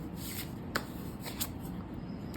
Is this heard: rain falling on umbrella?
no